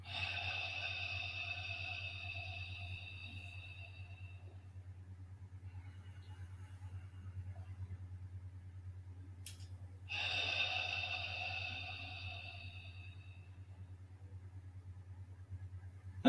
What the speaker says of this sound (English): Two more nice long breaths.